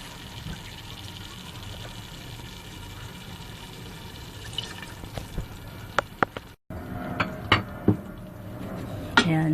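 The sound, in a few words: water poured into pan for mussel pasta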